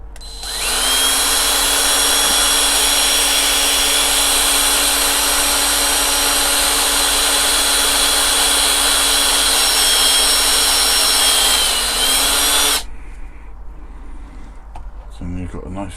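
A small power drill bores out the rivet posts on a Corgi Renault Floride 222 model car, a loud steady high-pitched whir running about twelve seconds before stopping, followed by faint handling noises.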